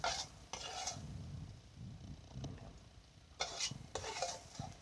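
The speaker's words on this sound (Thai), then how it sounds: "เดี๋ยวตักใส่จานให้ดูนะครับ" Stir-fried cabbage with egg is scooped from the pan onto a plate in a home kitchen, with metal spatula scrapes and clinks coming in short bursts over a low background hum.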